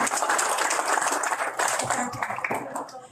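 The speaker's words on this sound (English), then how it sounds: "Let's give them a round of applause." An audience applauds fire crews at a Fire Prevention Week proclamation signing, a short burst of moderately loud clapping from a crowd with some voices mixed in.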